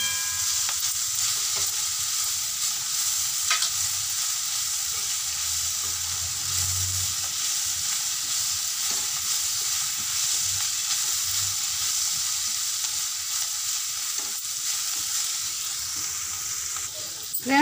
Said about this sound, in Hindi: हमें ये सब्जी को 2-4 मिनट और भूनना है।